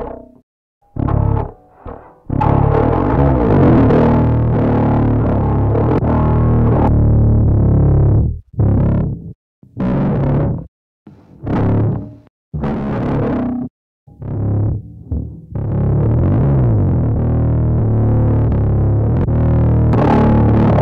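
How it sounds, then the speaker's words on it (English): Heavily distorted, multi-band saturated sound from the United Plugins Cyberdrive distortion plugin: dense, gritty bursts of driven tone stopping and starting in choppy phrases, loud and close with no voices. "You can get a sort of multi-band distortion if you keep in mind how these filters work."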